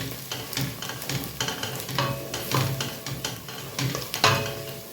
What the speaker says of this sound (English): So I'm going to add in the spices and then give them a good mix.